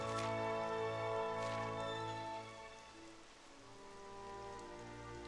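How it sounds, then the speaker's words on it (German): Rain in the Dragon Quest XI video game, a steady soft patter on surfaces that continues alone throughout, fairly quiet and even, with a slight dip midway. "Warum fängt es jetzt an zu regnen?"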